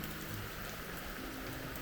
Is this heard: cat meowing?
no